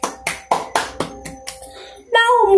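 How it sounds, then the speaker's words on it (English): Several evenly spaced hand claps or taps at a school English festival award ceremony, near and distinct, followed by a brief tonal sound at the end. "Please give them a big round of applause."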